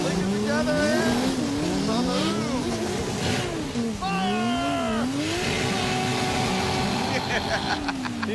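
A Dodge Charger's engine howls hard, climbing and bouncing off the rev limiter, alongside tire squeal and other car noise, loud and close while people talk excitedly over it.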